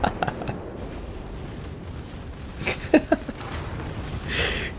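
Warship main battery guns firing in World of Warships, a few sharp booming reports bunched near the middle of the stretch, then a broad hissing swell at the end over low, steady rumble at moderate loudness.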